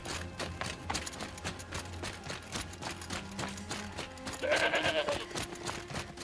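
Several quiet goat bleats rise over steady ambient game sound and footsteps in a snowy area of Horizon Zero Dawn, the clearest bleat near the end.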